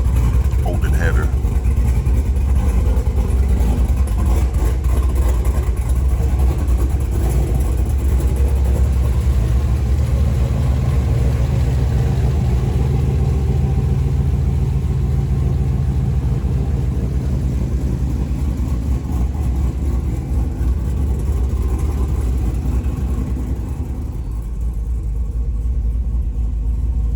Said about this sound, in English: these are coming right out the exhaust manifolds, open header